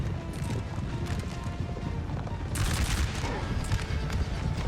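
Artillery fire and cavalry in the Napoleon Total War video game, a dense rolling fusillade with hoofbeats throughout, swelling louder and brighter halfway through as volleys intensify, under a continuous battle din.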